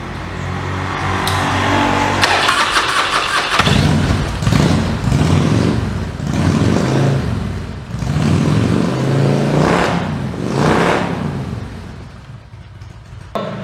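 A Harley-Davidson motorcycle engine starting up during a workshop service, then running close and loud with a rough, pulsing idle and several rising revs.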